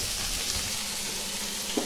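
Breakfast frying in a pan with a little oil and a splash of water, giving a steady, close hiss and crackle throughout with a faint clink near the end.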